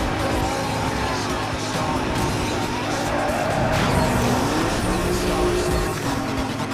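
A muscle car in Need for Speed Most Wanted (2005) skids continuously with loud, sustained tire squeal over a roaring engine, while a player talks over the game sound.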